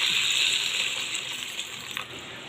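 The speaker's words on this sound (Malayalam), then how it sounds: "വെള്ളം ഒഴിച്ച്" Water pours steadily into a cooking pan, a close, continuous rushing gush that gradually thins and softens toward the end, with a small splash near the finish and no talking.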